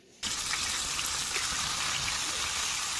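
Kachki fish paturi parcels drop into hot mustard oil, setting off a sudden, loud, broad sizzle that holds steady and close without pause or voices.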